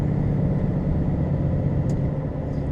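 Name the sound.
road traffic seen from an HGV cab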